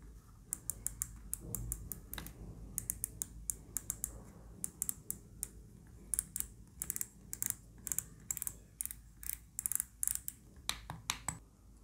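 The rotary knob on an AULA F68 RGB transparent mechanical keyboard is turned, producing rapid, crisp, close clicks in irregular bursts that grow denser toward the end.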